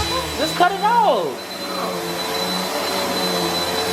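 Household vacuum cleaner running indoors, a steady whining drone continuing throughout, while a person speaks briefly over it at the start.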